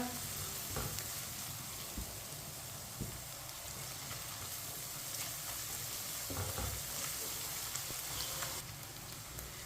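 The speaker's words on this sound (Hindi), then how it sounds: "लहसुन को भी मिक्स करके 2 मिनट के लिए पका लेंगे।" Garlic sizzling steadily in hot oil, a constant crackling hiss with occasional soft scrapes of a spoon stirring the pan.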